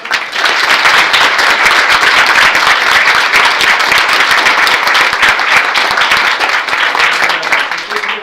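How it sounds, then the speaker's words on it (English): Loud, dense audience applause at a school board meeting honoring a student, sustained steadily throughout without pause. "big round of applause for Ava"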